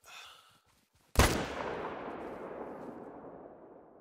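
A single sharp rifle shot fired at an elk in theHunter: Call of the Wild, loud and close, followed by a long echoing tail through mountainous Silver Ridge Peaks terrain, with faint breathing just before it.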